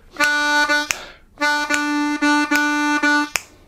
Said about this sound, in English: We're going to play the 1 draw, which will sound like this.